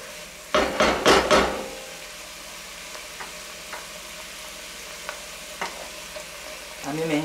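About three cloves of minced garlic hit a hot pan for a wine-braised lamb stew, giving a short, loud burst of sizzling and stirring that fades into quiet scattered clicks and taps.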